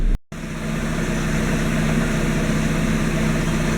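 A car engine idles steadily in a parked car with the A/C running, a continuous low hum that holds evenly after a brief dropout at the start.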